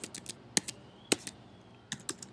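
Code being typed on a computer keyboard, a few light key clicks in short scattered bursts, close and faint, without speech.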